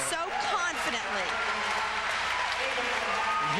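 Diving finals crowd applauding a platform dive, sustained dense clapping throughout with a commentator speaking over it.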